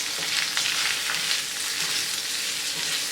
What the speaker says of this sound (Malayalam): സവാള ചേർത്ത് നന്നായിട്ട് വഴറ്റി കൊടുക്കണം.